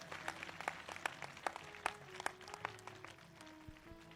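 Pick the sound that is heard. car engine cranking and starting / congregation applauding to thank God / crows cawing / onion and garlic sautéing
congregation applauding to thank God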